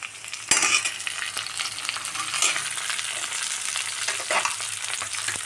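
Curry leaves hit hot oil for an egg roast, bursting into a sharp crackle that settles into a continuous bright sizzle, with light stirring scrapes.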